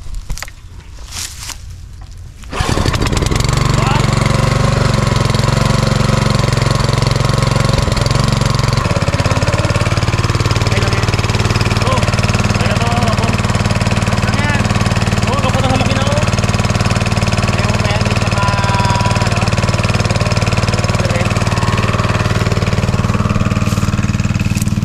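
A small pull-cord engine catches after a few seconds of quiet and then runs loud and steady, its tone shifting slightly partway through, with voices faintly under the noise.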